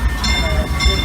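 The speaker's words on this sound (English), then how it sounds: "please wait until the train comes to a full stop" Disneyland Railroad train pulling into the Mickey's Toontown station, a close low rumble of the cars with thin metallic tones ringing above, steady and loud over the short stretch.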